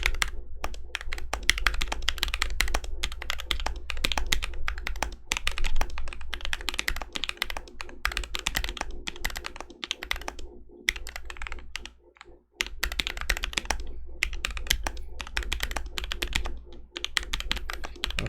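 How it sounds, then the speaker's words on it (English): Fast, continuous clacking of a Mino 40% mechanical keyboard, keys struck in quick uneven bursts with a brief pause midway, close and steady. "we'll listen for your typing sounds"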